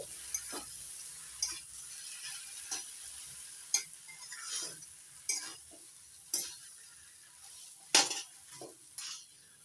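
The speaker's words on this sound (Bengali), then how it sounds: "চিনি কচুর শাকের সঙ্গে ভালো করে মিশিয়ে নিচ্ছি।" Taro greens cooked with a hilsa fish head being stirred with sugar in a pan, a soft sizzle beneath repeated scraping and clinking strokes of a spoon against the pan, spaced irregularly and fairly quiet.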